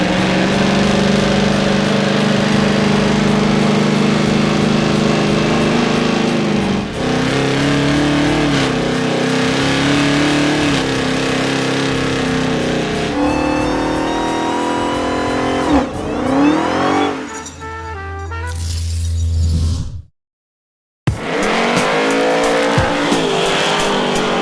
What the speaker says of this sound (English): Let's do some Big Smoky burnouts and get out of here.